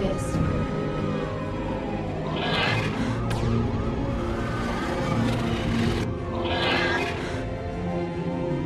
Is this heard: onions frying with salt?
no